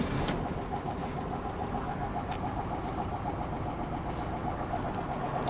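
A patina-worn Volkswagen Beetle's air-cooled engine runs at a steady idle, a faint, even mechanical hum with a light rhythmic ticking and a few small clicks, no voices over it.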